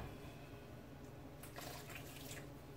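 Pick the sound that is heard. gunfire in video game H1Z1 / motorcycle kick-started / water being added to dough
water being added to dough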